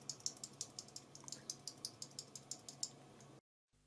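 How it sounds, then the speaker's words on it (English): Gateron brown mechanical keyboard switches from a gaming keyboard and mouse bundle are pressed in a quick, regular run of about twenty soft, close clicks, faint and alone, ending abruptly. "You get a couple of extra free switches. We'll take a look at these and you'll be able to hear the sound of them."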